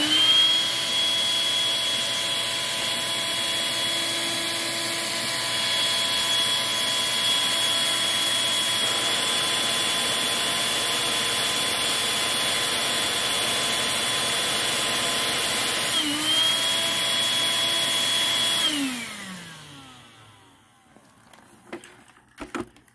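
A Eureka 402 Superlite upright vacuum cleaner runs with a loud, steady high motor whine and airy rush, then switches off and spins down over a couple of seconds, leaving quiet handling clicks.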